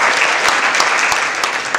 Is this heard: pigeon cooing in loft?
no